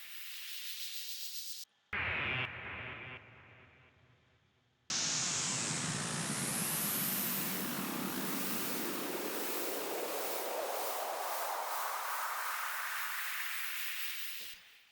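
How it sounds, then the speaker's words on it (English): Trippy transition effects drenched in big reverb and stereo delay: a short burst and a stuttering hit, then a long swelling, rising whoosh that sweeps upward and slowly fades, with no voices. "the little audio samples of various different noises to carry me from one part to the next."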